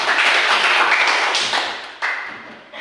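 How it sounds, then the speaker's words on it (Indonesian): Primary school pupils in a classroom clap their hands for a classmate, a dense patter of many small claps that fades slightly, then a brief fresh burst near the end. "Beri tepuk tangan untuk temannya."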